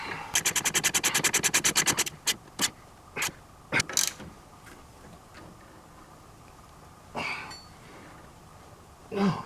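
Ratchet tightening a bolt on a Polaris RZR 800 A-arm during bushing replacement: a fast run of sharp clicks, then scattered single clicks and short bursts of clatter, close and fairly loud.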